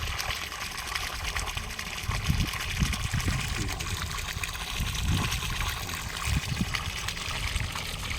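Water flowing steadily from a solar-powered pump into a pond on a Thai farm, a continuous splashing gush with no pauses, close and fairly loud throughout.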